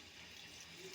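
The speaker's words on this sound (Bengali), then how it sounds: "একটু জল দিয়ে দেব" Water is poured into a cooking pan holding chopped tomato for a pumpkin curry, a brief, faint, steady splashing rush without any voices.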